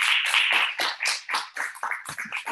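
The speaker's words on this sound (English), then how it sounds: "Clap for me." Scattered clapping from a small crowd, uneven and brief, with claps rising and falling over a couple of seconds.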